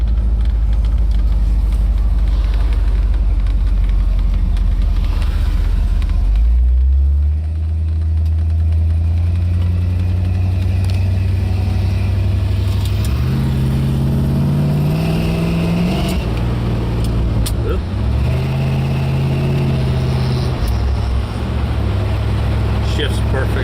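A 1969 Ford XL Galaxie engine runs and pulls through gear shifts while driving, a loud, close low rumble that rises and drops in pitch as it accelerates and changes gears.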